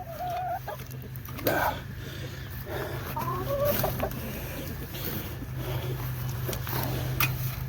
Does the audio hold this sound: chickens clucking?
yes